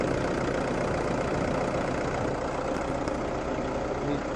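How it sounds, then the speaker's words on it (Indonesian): Car engine idling steadily just after being started, a constant close rumble with an even tone and no voices. "ini sekarang kita sudah hidupkan mesinnya"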